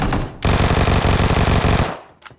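Rapid automatic fire from a Vector submachine gun in the mobile shooter BGMI, one loud sustained burst of about two seconds with a short trailing shot after, no talk.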